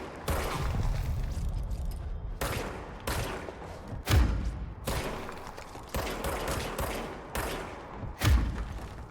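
Enemy gunfire in the video game Control: a series of loud, close bursts of shots, about six separate volleys with brief gaps, each starting with a heavy thump.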